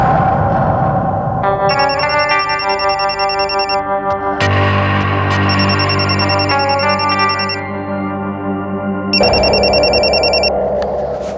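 An electronic telephone ringtone plays loudly and continuously, a bright, effect-laden melody of stacked tones shifting pitch every few seconds, with no voices.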